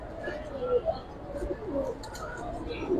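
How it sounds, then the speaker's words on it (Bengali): Silver-necked pigeons cooing in soft, repeated calls close by, with some background chatter among people. "সিলভার গলা একটা পেয়ার, 1 দশকের একটা কবুতর ভাই।"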